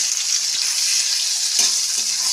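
Shrimp frying in hot oil in a pan, cooked with jackfruit for a Bengali dish: a continuous bright sizzle with a few stirring clinks and scrapes, close and steady.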